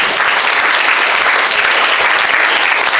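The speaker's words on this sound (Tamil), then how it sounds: "ஒரு நல்ல கைதட்டு கொடுங்க பார்ப்போம்." A loud, steady burst of hand clapping from a crowd fills a school Independence Day celebration in Thiruppathur, dense and continuous for a few seconds.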